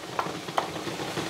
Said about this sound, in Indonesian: Ini saya ngulek pakai tangan kiri ya